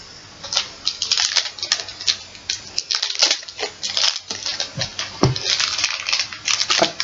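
A knife cuts Peperami sausage on a plate, making a run of sharp taps, clicks and scrapes against the plate that come close and fairly loud in an irregular rhythm.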